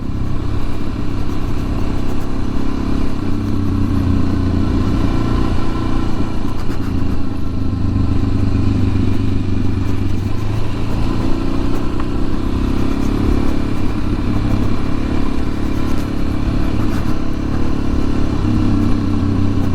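Suzuki DRZ400 dual-sport motorcycle ridden off-road, its steady mid-pitched engine drone and low exhaust rumble continuous and close throughout, with faint clatter from the terrain and no talking.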